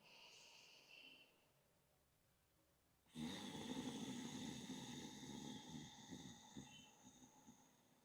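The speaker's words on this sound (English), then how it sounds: "make a little funny sound like you're actually snoring or you're Darth Vader" Slow, breathy yogic exhalations with a throaty, snore-like rasp; a quiet inhale is followed by a long, loud hissing breath out.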